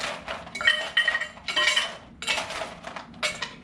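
Ice clinks in a glass and a shaker while a chilled drink is poured, with bright bursts of clinking and rattling close by and brief gaps between them.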